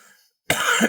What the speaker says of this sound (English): I apologize for coughing so much today.